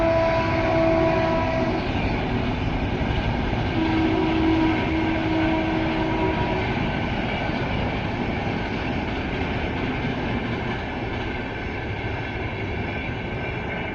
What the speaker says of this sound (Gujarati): એ ટ્રેન જાય છે